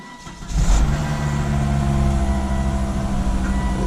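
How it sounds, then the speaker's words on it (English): A Volvo XC70 engine cranks and catches after a power steering pump install, then settles into a steady, low idling rumble close by. "Let's give it a quick start."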